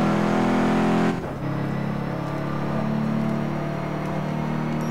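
A Nissan R35 GT-R engine in the racing game Test Drive Unlimited 2 drones loud and steady at high speed, with a brief dip like a gear shift before the tone settles again.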